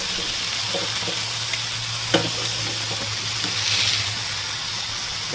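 Bacon-wrapped filet mignon sizzles and fries on an Artflame griddle set on a Weber kettle, a steady close crackling hiss with a low hum beneath and a few sharper pops and spits.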